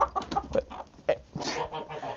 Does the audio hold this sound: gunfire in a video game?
no